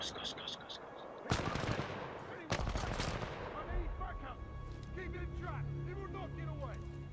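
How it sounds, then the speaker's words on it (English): Enemy gunfire in the Titanfall 2 shooter game comes as two sharp broadband bursts, followed by steadier combat noise and effects, with people talking over it. "Where's that guy shooting from?"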